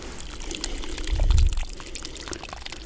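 Water poured onto the soil around a freshly transplanted conifer during autumn planting, a short mid-clip gush over a quiet outdoor background.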